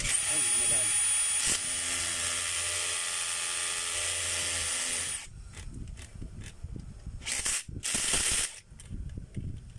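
An electric drill runs steadily with a high whine for about five seconds, then stops; afterward only brief bursts of the drill and handling clatter follow, with speech present.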